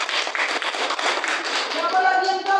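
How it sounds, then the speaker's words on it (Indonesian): Students in a classroom applaud in a short burst of quick, fairly light hand claps, with voices talking over the clapping toward the end. "Oke, tepuk tangan."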